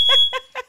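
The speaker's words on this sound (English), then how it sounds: "Did you just set off the fire alarm?" An indoor fire alarm set off by smoke sounds three close, loud electronic beeps in quick succession, each a harsh buzzing tone with a thin high whine running underneath.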